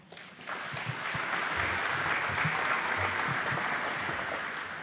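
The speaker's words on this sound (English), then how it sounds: "Big round of applause." An audience applauds at a spray forum session on drift management, a steady, full round of clapping that starts abruptly and continues evenly to the end.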